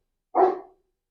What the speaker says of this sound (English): Got me mutts barking again.